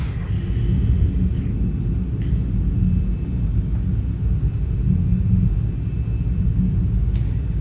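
Airliner engines spooling during a takeoff roll in a flight simulator, departing Skiathos: a steady, heavy low rumble that holds constant throughout, with faint higher whine and occasional light clicks above it.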